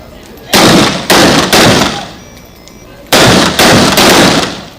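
Gunfire from a firing party shooting on command at a memorial event, heard as five loud, close volleys with reverberating tails.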